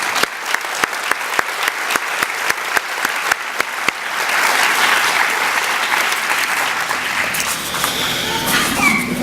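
Audience applause for Teacher of the Year finalists at a school awards ceremony: sharp individual claps at first, swelling into steady, full clapping from a large crowd that continues to the end.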